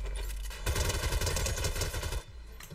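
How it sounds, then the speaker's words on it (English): Rapid automatic gunfire in Fortnite Reload, a burst of close, loud shots in quick rhythm that stops abruptly near the end, with no talk over it. "I'm shooting in one spot, but it sometimes misses shots."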